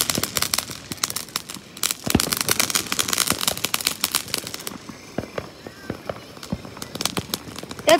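Fourth of July fireworks burst close by in rapid, irregular volleys of sharp cracks and pops, some very loud, crackling on for several seconds with a brief lull midway.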